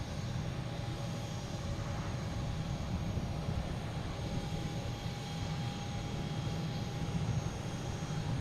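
An Airbus A320 on its arrival at Boston Logan from Orlando gives a steady, loud engine roar that holds evenly throughout, with a faint whine riding above the broad rumble.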